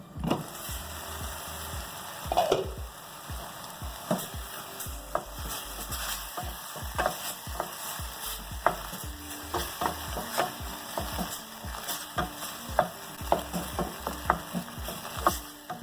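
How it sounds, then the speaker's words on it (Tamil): Tomatoes softening in a pan for an Indian broad beans curry make a soft, continuous sizzle, broken by repeated stirring scrapes and taps, close and fairly quiet, with no talk. "சும்மா வதங்கட்டும்"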